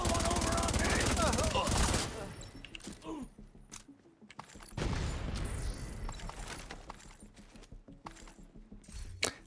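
Turret gunfire in a video game room: a loud, dense burst of rapid shots for the first two seconds, then scattered sharp shots and mechanical clatter, with a second heavy volley midway and a voice talking over parts of it.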